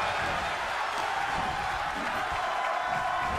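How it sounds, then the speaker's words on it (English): A large arena crowd in the WWE 2K24 wrestling game keeps up a dense, continuous roar and cheer throughout, with a commentator's voice faintly under it. "The sound of this crowd is deafening, and he's asking for more."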